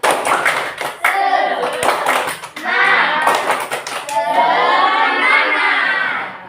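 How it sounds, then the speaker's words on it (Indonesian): Classroom children perform a rhythmic spirit clap, sharp patterned hand claps alternating with loud chanted and shouted group voices, close and energetic throughout. "Baiklah, kita tepuk semangat dulu."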